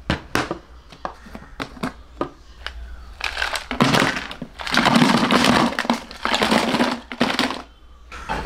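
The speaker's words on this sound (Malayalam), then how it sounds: "ഈ ഐസ് ക്യൂബ് ഇതിൻ്റെ ഉള്ളിലേക്ക് ഇടാം." Ice cubes are dropped into a container, a run of sharp clicks and clatters followed by louder bursts of tumbling, rattling ice, close and with no talking.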